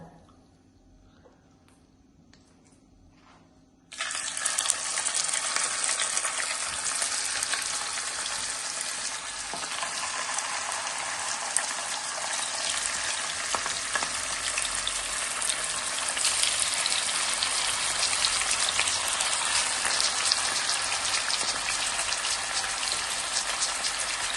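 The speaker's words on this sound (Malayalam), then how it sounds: "മീഡിയം ഫ്ലെയിമിലിട്ട് നമുക്ക് ചിക്കൻ കഷ്ണങ്ങൾ ചെറുതായി ഒന്ന് വറുത്തെടുക്കാം" After a few quiet seconds, a loud, steady sizzle of chicken pieces frying in hot oil over a medium flame starts suddenly and keeps crackling evenly to the end.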